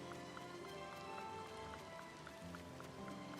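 Steady rain falls over a building game scene, a dense continuous patter of drops with faint periodic ticks, soft and even throughout with no talking.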